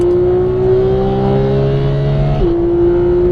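A GT3 race car engine pulls steadily under throttle from a close onboard position, its strong droning tone rising in pitch before a brief dip around an upshift, then carrying on alone and loud.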